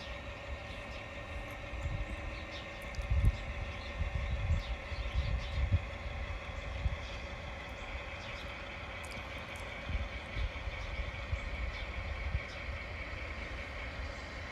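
A model train switching cars pulls a modified rail gondola, giving a steady low rumble with faint wheel clicks and a soft motor hum, close and continuous.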